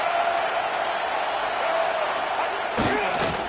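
A stadium crowd at a football game roars in a loud, continuous wash of noise during a big third down, with a few sharper shouts rising near the end.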